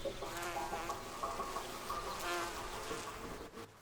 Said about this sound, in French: Cette abeille-ci appartient à une autre ruche.